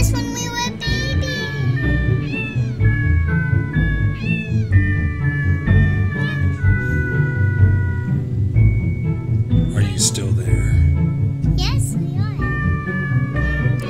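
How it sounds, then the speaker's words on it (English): A cat-themed song from the video game The Purring Quest, with sung meows over a steady melodic backing. The music plays continuously and fairly loud throughout, with no talking. "we're listening to this amazing music. This cat song."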